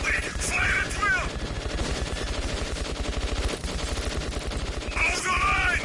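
Rapid automatic gunfire rattles in Metro 2033 Redux, a steady close stream of shots over several seconds with shouting voices at the start and end.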